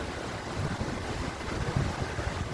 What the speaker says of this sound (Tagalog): narinig yung ingay na yung tubig guys meron siyang uh, uh, ilog dyan sa baba